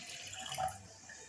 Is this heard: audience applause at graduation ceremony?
no